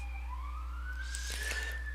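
An emergency vehicle siren wails in the background, a single faint rising tone heard from a distance against a steady low hum, with no talking.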